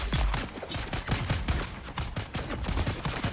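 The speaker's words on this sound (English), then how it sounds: "Someone's shooting me through the barrier?" Rapid bursts of sniper gunfire in the video game Dune: Awakening, loud and continuous with repeated sharp shots overlapping in a dense fusillade, no talk.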